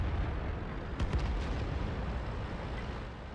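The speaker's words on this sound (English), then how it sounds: "I'm firing HE at him because I don't have a very good chance at penetrating him" A high-explosive shell fires from a Type 62 tank in World of Tanks, one sharp boom around the first second that rings out over steady loud engine rumble and battle noise, fairly close.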